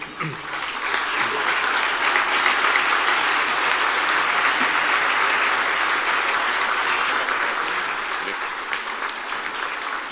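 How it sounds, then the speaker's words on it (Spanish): An audience at a political talk on the 2019 elections gives a long, strong round of applause to welcome an economist to the podium, broad steady clapping that swells and then gently eases. "lo recibimos con un fuerte aplauso"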